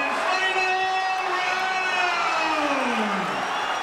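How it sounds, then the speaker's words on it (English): A boxing crowd at Madison Square Garden roars steadily through a title bout's final round, a dense sustained wall of cheering and shouting with a rising whistle-like tone sweeping across it. "the crowd here at Madison Square Garden rises for the 12th and final round"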